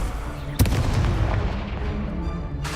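Fiery Incendio spell blast in the Hogwarts Legacy video game, a sharp booming burst followed by a roaring, crackling rumble that fades slowly, with a faint voice in the background.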